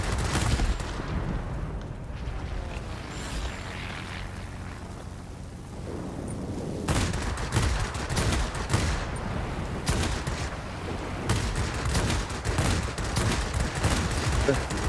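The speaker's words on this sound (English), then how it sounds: "That was not good shooting." Aircraft guns in the World of Warplanes video game fire in rapid bursts under a steady engine drone, with dense rattling volleys growing heavier and more frequent in the second half.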